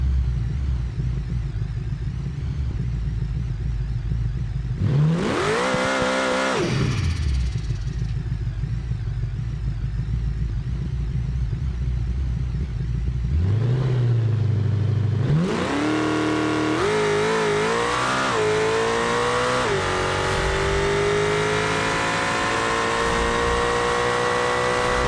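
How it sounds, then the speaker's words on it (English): A drag car in the BeamNG driving game revs at the line, launches with a loud engine roar and spinning tires, cuts back, then launches again and pulls hard through several rising gear changes, close and sustained with no talk. "Spun the tires a lot off the line, but we did not wheelie, so that's good."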